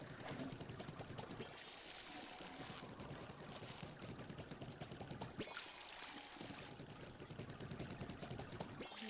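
Watering plants in the video game Palia, a soft steady pouring splash that swells and fades in a couple of bursts under game background sound.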